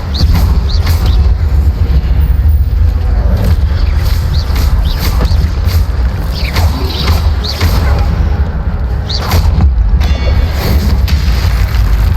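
Fire spells cast in Hogwarts Legacy, a run of loud booming bursts and crashing impacts over a dense rumbling game soundscape.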